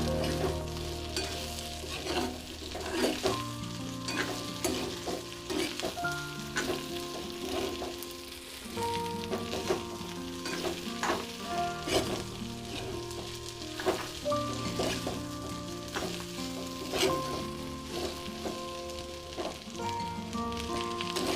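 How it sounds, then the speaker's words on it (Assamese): Fish head and bitter eggplant stir-fry in oil in a pan, giving a continuous close sizzle with intermittent scraping and clatter from stirring throughout. "এইখিনি ভালদৰে এবাৰ লৰাই দিলোঁ।"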